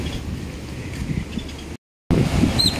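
Wind buffeting the microphone over a steady wash of sea waves on the shore at Xcaret, Mexico, loud and continuous, cut by a brief gap of silence.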